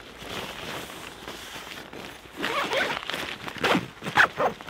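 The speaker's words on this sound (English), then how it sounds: "Let's zip the mesh" A zipper drawn along the mosquito mesh net of a stealth camping tent in a dense forest, a few close, scratchy pulls that grow louder and more abrupt toward the end, with no voices.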